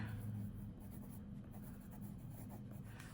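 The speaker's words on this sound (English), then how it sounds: "This may not be fascinating television, but I'm writing." Faint, steady scratching of a pen on paper, close and quiet against a low background hum, with no talking.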